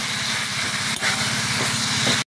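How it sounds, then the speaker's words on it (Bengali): Coriander powder, chili powder and two tomatoes sizzle as they are sautéed in hot oil for dhaba-style matar paneer, a loud and continuous frying hiss close by that cuts out briefly near the end. "এবারে মশলাগুলোকে দিয়ে ভালো করে কষিয়ে নেব।"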